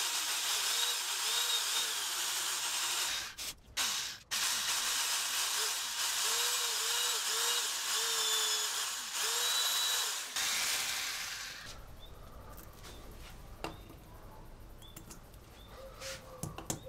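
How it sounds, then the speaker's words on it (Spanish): A continuous high-pitched power drill whines steadily for about ten seconds drilling into a wall to hang a dartboard, cutting off abruptly, followed by quiet scattered clicks and handling noises. "La voy a meter al taladro, enchufo el taladro y volvemos a la pared para hacer el agujero."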